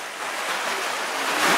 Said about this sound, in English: waves that come in, they splash quite hard on this area here